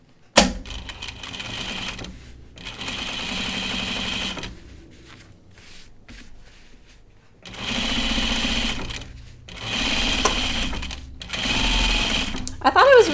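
A sewing machine runs in bursts, top stitching denim jeans with thick top stitching thread, a rapid mechanical clatter starting and stopping several times at close range, with people talking over it.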